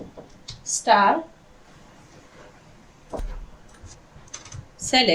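A few short bursts of computer keyboard typing while an SQL query is entered, separated by pauses and light background noise.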